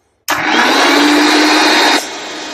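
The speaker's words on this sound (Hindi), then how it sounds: "मिक्सर जो होता है उसके ऊपर मैं ग्राइंडर करूंगा।" A kitchen mixer grinder blends giloy stems into juice, a loud, high whirring motor burst lasting under two seconds that starts abruptly and cuts off sharply.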